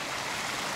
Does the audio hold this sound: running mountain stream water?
yes